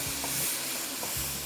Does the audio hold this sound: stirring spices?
yes